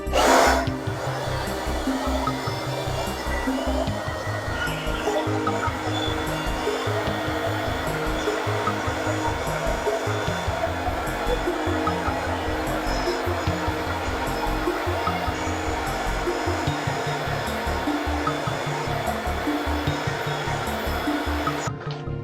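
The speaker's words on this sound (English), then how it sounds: "I'm gonna go back with my hair dryer, no concentrator." A hair dryer without a concentrator nozzle blows on hair while a pompadour is styled, a loud continuous whooshing whir that starts abruptly and holds steady close by for over twenty seconds.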